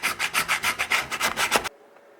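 Quick, close back-and-forth sanding strokes rough up the plastic surface of a cracked Maytag washer lid near the hinge, about a dozen rapid rasps that stop abruptly, with no talking.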